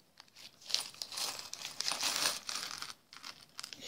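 A plastic bag full of assorted small charms crinkles and rustles as it is handled up close, in bursts of crisp crackling with brief pauses, no talking over it.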